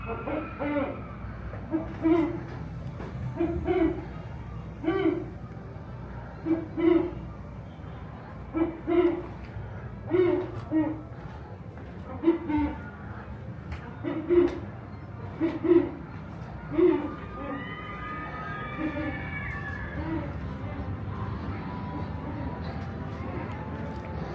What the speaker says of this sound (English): Man, that is an aggressive owl.